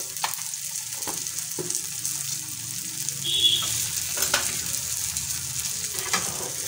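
Ground spices, chilli powder, turmeric and salt, are stirred and fried in a pan for a coriander-leaf bharta. A steady close sizzle with scraping stir strokes runs throughout, and no one speaks.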